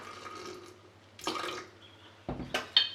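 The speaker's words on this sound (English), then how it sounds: "then you're gonna mix it with water" Water splashes into a sourdough starter jar in short bursts, with a soft trickle early on, then louder pours and drips near the end, close and fairly quiet.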